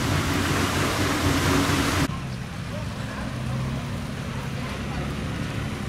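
A powerful boat engine on a Vietnamese river cargo boat runs fast, a loud steady low roar with broadband rush of water and wind that drops slightly after the first two seconds but continues throughout.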